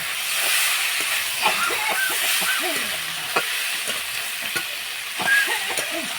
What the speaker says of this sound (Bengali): তারপরে আমি এসবটা ভালোভাবে ভেজে নেব